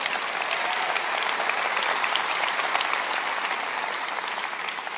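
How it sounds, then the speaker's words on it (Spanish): Sustained applause from a church congregation during a sermon, dense and steady clapping filling the room for several seconds without a break. "Dales un buen aplauso."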